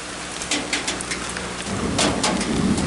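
Dense, steady rain pours down and grows heavier, with close drops spattering and a constant broad hiss.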